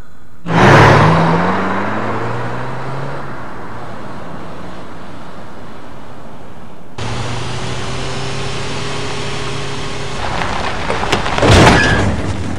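A car driven fast in an anime scene: a loud whooshing rush and steady engine roar with rising tones, a sharp cut midway, then continued roaring drive with a brief screech near the end.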